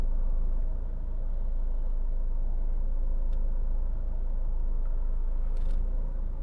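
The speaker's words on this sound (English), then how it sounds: "A lot of traffic flow here" Busy road traffic flows steadily through a roundabout in Finglas, heard from a waiting car as a constant low engine rumble and tyre roar, with no talking and only brief faint clicks above the drone.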